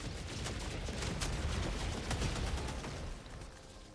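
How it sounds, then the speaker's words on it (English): Helldivers 2 gunfire, including a machine gun sentry, crackles in dense rapid bursts throughout, loud and continuous, with sharp repeated reports that fade a little toward the end. "You can do it, little machine gun sentry."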